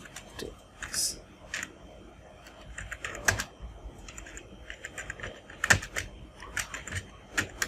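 Fingers type on a computer keyboard while a ladies' pant pattern is drafted. Scattered, fairly close clicks come in uneven clusters with sharper single taps, and soft speech runs underneath at times.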